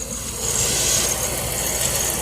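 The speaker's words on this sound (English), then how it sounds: "PCV valve still making noise as always." A truck engine idles steadily with a faint high-pitched hiss or whine from a noisy PCV valve running on top, continuous and fairly close, no voices.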